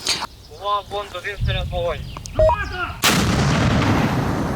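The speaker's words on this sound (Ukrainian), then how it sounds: "гармата вистрелює по 40-50 снарядів в день" A loud artillery gun firing bursts in and trails off into rumbling noise, with someone talking just before it.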